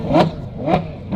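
Car engine revving in a rev-off between a family sedan and a supercar, with two quick sharp blips a half-second apart and a third starting, loud and close.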